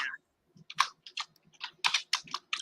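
Keys clatter on a computer keyboard in irregular bursts of quick clicks separated by short pauses, close and clear with no talking.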